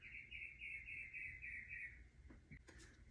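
Small birds chirp outdoors in a steady repeated trill that runs for about two seconds, followed by a few scattered rustles and soft knocks. The sound is faint overall and no one speaks.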